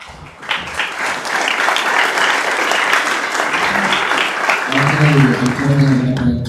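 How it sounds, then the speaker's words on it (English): A crowd applauds at a council general assembly meeting, a dense, sustained clapping that swells quickly and holds steady, with voices rising faintly under it near the end. "Give a round of applause."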